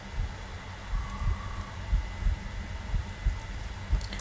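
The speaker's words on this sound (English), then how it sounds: "That's the beacon, and here's the conduit." Minecraft beacon and conduit game sounds make a low, pulsing, throbbing hum with soft beats about once a second, steady and fairly quiet, with no talk.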